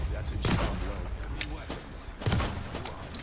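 Video game gunfire during a DOOM match, a couple of sharp thudding shots a couple of seconds apart, close and punchy, mixed with a player's voice talking.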